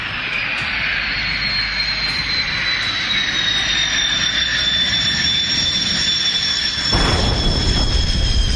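A Hawk jet trainer flies over Kalaikunda airbase, its steady loud jet roar with a high whine holding throughout, swelling slightly louder near the end as it passes closer.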